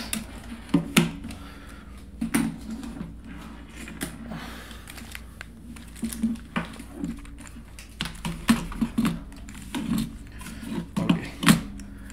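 A computer keyboard being set down and arranged on a desk while a compact HP 600 G2 Mini PC is set up gives repeated close plastic clicks, taps and knocks in an irregular rhythm over low room noise. No one talks.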